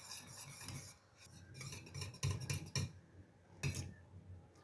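A spoon stirs cooking syrup in a pot, making close, irregular scraping and rubbing strokes against the metal, with a few sharper clinks.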